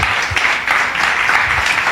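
A church congregation gives a brief burst of loud, close applause in praise of Jesus, a dense, continuous patter of many hands lasting under two seconds.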